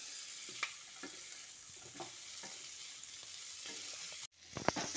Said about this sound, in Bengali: এবার এঁচোড় ও আলুটা দিয়ে আরও খানিকক্ষণ কষিয়ে নিচ্ছি।